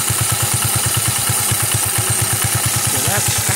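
A Phatmoto motorized bike fitted with an AR Sports flared trumpet exhaust and baffle idles close by, its single cylinder thumping in a fast, steady, loud rhythm of even pulses.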